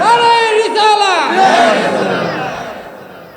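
At a Ramadan religious sermon gathering, a large crowd chants the takbir in unison: loud, massed voices ring out together, then trail off and fade.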